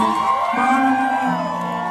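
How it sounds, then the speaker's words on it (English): Concert crowd at a live show in San Antonio cheering and whooping with sustained loud voices and shouts, a dense steady roar throughout, applause mixed in beneath the cheers. "round of applause for yourselves"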